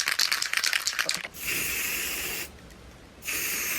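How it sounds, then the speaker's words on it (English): Yacht varnish is sprayed from a can onto the edges of an upcycled baking tray outdoors, heard as two steady close hissing bursts after a quick rattling shake, with a short pause between them. "I'm going to give it a spray with some yacht varnish just on the edges."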